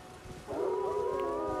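Wolves howl in the video game Elden Ring, several overlapping drawn-out tonal cries rising and wavering together at moderate distance, starting abruptly partway through.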